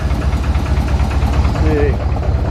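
A one-off steel sports car built around 1956 idles with a steady low rumble and a faint rhythmic lifter tick, continuous and close, with a person talking over it.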